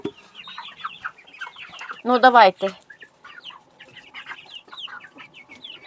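A rooster gives a loud, drawn-out clucking call mid-clip, surrounded by busy chirping of small birds, with a brief spoken phrase nearby.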